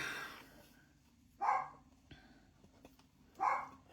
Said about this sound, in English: I apologize if you can hear my dog. He's a Chihuahua